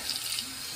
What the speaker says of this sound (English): So get a little water into the brush here.